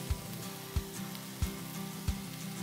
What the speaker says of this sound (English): how about you go ahead, Caleb, and add in the turnip greens